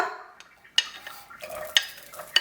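Onion, garlic, parsley, basil and pepper sauté in a hot pan, with a soft sizzle under several sharp clinks and scrapes of a utensil against the pan.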